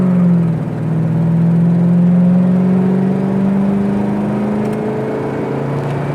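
An Oldsmobile Cutlass 442 engine pulls hard in a loud, close run, its pitch rising steadily through a gear with a brief dip at a shift near the start. The low drone continues alone, with no talk.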